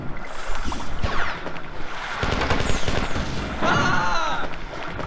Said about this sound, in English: he has a grenade launcher.